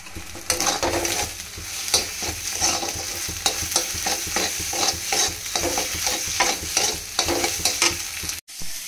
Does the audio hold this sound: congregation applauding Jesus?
no